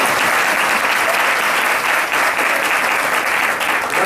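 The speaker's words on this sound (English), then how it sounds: "Hari, why don't you clap?" Dense, steady audience applause fills the room at a devotional satsang gathering, continuous and loud throughout with no break or spoken voice.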